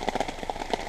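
Rain patters on a surface at a camping spot, a quick run of soft, irregular drops close by, with no voices.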